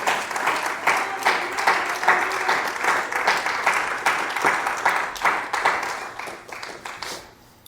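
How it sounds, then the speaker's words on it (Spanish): A church congregation claps loudly in praise, a dense, lively burst of many hands with sharp individual claps poking through, sustained for several seconds before tapering off. "Cuando le dan ese fuerte aplauso al Señor."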